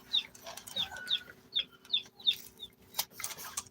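Backyard chickens clucking close by in a quick run of short, sharp calls at an uneven rhythm, each one clear, with a low steady hum underneath.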